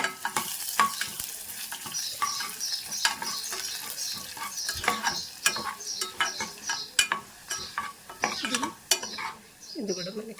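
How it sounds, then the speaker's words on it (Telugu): Coriander seeds and cumin are dry roasted in a pan, with a close, continuous rattle and scrape of stirring and light sizzling, the spoon knocking against the pan in quick irregular strokes. "ఇప్పుడు ధనియాలు వేద్దాము జీలకర్ర కూడా వేసేద్దాం రెండు కూడా మనం వేసేస్తాము"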